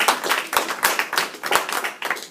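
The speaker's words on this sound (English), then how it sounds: "Would you, learners, give a round of applause to those people that shared with you?" A small group in a classroom claps, the rhythmic hand claps landing in distinct, fairly close, evenly spaced bursts about every third of a second rather than blending into a wash.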